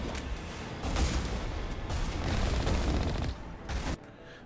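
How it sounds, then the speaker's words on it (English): A ship's main cannon fires in the Mass Effect video game, a sustained dense barrage of loud blasts and rumbling booms that cuts off abruptly near the end. "Main cannon."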